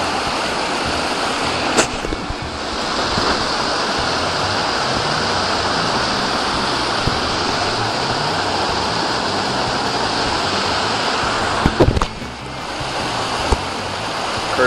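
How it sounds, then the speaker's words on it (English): Small river rapids rush steadily in the Boundary Waters of Minnesota, a continuous broadband wash of churning water that stays loud and even throughout, with a few brief knocks near the start and end. "Nice little rapids here."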